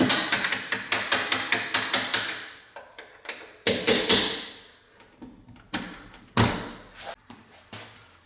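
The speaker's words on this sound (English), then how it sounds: "the first thing to do is I want to take these hinge pins out" Repeated metallic hammer taps driving hinge pins out of a door, a quick steady rhythm of close, ringing strikes that slows into spaced, heavier blows.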